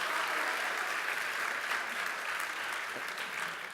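Sustained audience applause at a speakers' forum, a dense steady wash of many hands clapping at even loudness throughout with no voices over it.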